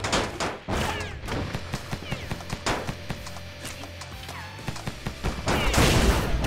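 Spear gun in the Rogue Robots video game firing repeatedly, a quick run of sharp, fairly loud shots with short gaps between them, layered over busy game effects and a low rumble.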